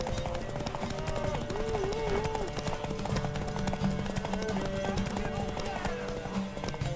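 Rhythmic hoofbeats of a horse in The Witcher 3 clop steadily at a quick pace, mixed with game music and a brief whinny, fairly faint under the busy backdrop.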